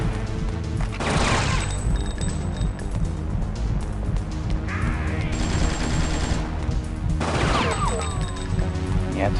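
Sustained gunfire in the video game Fear Effect, dense rapid shots and crashing impacts running continuously and loudly, with sharp bursts standing out near the start and end and no talk over them.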